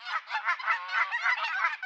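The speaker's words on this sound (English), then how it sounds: "Goose." Goose honking in a fast, continuous series of nasal, overlapping calls, loud and close, with no pauses or other sounds.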